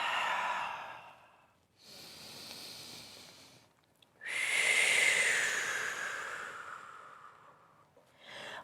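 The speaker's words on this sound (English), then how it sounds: "And deepen the breath." Slow, deep breaths during a yoga stretch: a long inhale, a pause, another breath, then a loud drawn-out exhale with a faint whistling edge, heard close and alone.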